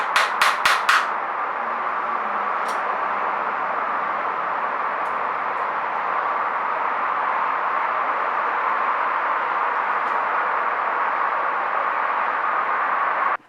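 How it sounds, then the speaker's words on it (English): Four rapid taps of one screwdriver hammering another during repair of a Mongoose Expedition bike's rear derailleur, then only a continuous steady background noise for the remainder. "one screwdriver with another screwdriver as a hammer"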